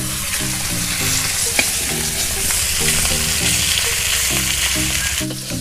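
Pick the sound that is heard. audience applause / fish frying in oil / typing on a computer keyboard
fish frying in oil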